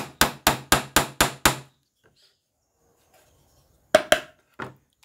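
A small nail hammered into white wood while building a tool case: seven quick, evenly spaced sharp blows, a pause, then three more strikes, close and loud.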